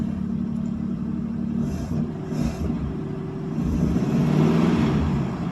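Close, loud engine sound from a 1952 Ford Customline flathead V8 running, a low rumble that swells toward the end as if revving or moving off, with no voices.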